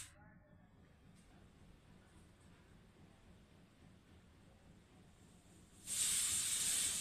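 Jackfruit seeds stir-frying in a pan with a low, steady sizzle for most of the clip, then a sudden loud hiss bursting in near the end as water hits the hot pan.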